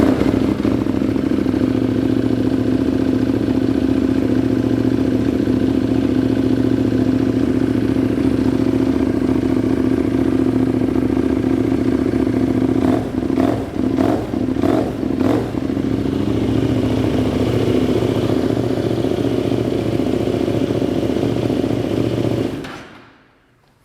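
Kramer race motorcycle engine idles and runs steadily, loud and close, with a burst of sharp revs and clatter partway through before cutting off abruptly at the end; no talking.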